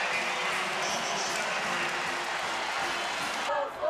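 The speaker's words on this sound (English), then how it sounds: "Final roar of this partisan Tar Heel crowd." A partisan Tar Heel home crowd roars at a North Carolina college basketball tournament game, a loud sustained wash of cheering and applause in the arena, with a commentator talking over it.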